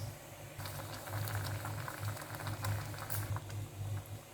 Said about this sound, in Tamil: இப்போ நல்லா கொதிச்சிருச்சு.